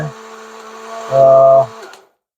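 A kitchen blender whirs steadily as it grinds apple and dates into a milkshake, with a brief louder surge of motor strain near the end before it winds down and stops.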